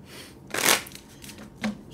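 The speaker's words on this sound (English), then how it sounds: "Let's get three more shuffles." Tarot cards being shuffled, one loud riffling burst followed by quieter shuffling and a second short riffle, close by with no talking.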